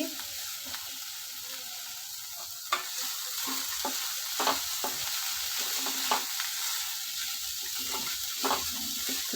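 Bitter gourd curry sizzles steadily in a pan with chilli powder and coriander powder, while a spoon scrapes and clacks against the metal in irregular strokes, close and moderately loud.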